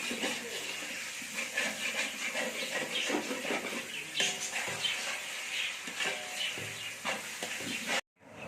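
Water boils steadily in a pot, a continuous hissing bubbling roar with small pops, cutting off abruptly near the end.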